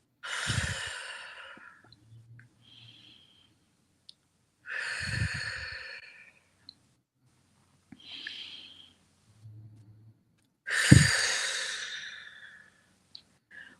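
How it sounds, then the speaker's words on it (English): Three slow, deep breaths in a quiet room, each a soft inhale followed by a long, audible exhale, spaced evenly several seconds apart, with a faint fourth breath near the end. "So let's start by taking 3 deep breaths."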